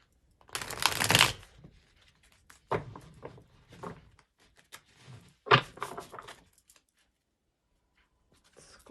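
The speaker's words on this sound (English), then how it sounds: "We're just going to shuffle a couple more times so we have a good clean read." Tarot cards being shuffled for a reading come in several separate riffling bursts with quiet pauses between them, the first burst the longest and loudest, all close and with no talking.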